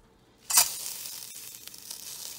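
Coriander leaves tossed into a pan with urad dal burst into a sharp, loud sizzle that fades to a steady, quieter frying hiss for a mint-coriander chutney.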